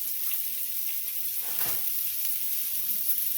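Tomatoes stirred into a hot pan where a trout dish with coconut sauce is being cooked, giving a loud, continuous close sizzle with a faint scrape of stirring and no talking.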